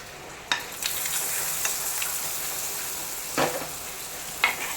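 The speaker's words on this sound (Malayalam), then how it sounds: "അവിടെ താളിപ്പ് നമുക്ക് ഒഴിച്ചു കൊടുക്കാം" Hot oil tempering poured into a Kerala-style rambutan pulissery, a yogurt curry, gives a steady close hiss of sizzling with a few sharper bursts, no voices.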